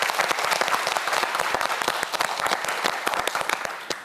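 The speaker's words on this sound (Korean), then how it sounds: "역시 큰 박수 보내주세요." Studio audience on a Korean TV quiz show claps steadily throughout, a dense sustained round of applause with sharp individual claps standing out, no talking over it.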